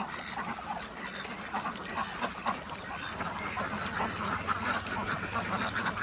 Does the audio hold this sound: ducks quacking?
yes